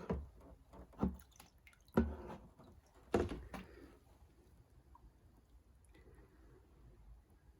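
Diesel is poured into a VW Jetta TDI fuel filter, giving a few faint, close splashes and drips at irregular intervals that then fade into quiet trickling.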